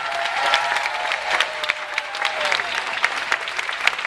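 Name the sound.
audience applause and cheering at a talk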